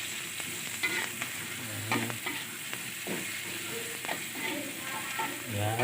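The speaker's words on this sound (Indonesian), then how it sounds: "Ya, diaduk-aduk terus sampai agak layu." Fish frying in a pan with pepper spices, kaffir lime leaves and bay leaves crackles and sizzles steadily while a spatula stirs it, adding repeated scraping and clinking strokes close by.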